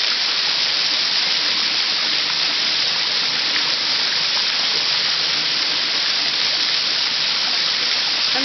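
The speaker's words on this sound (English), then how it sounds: "Sometimes you just have to sit and listen to the water." Steady, full-bodied rush of flowing water on a hiking trail, continuous and even throughout with no breaks, no voices, and a close, enveloping wash of sound.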